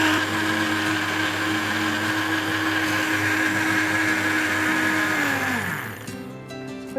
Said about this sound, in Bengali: 30 সেকেন্ডের মতো ব্লেন্ড করে আবার অফ করে আবার দিলে ব্লেন্ডারটা ভালো থাকে।